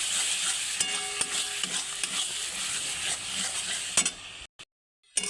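Garam masala, bay leaf, dried chili powder, nutmeg and mace sauté in a pan with a close, steady sizzle and repeated utensil scrapes, before cutting to sudden silence near the end.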